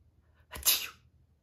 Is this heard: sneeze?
yes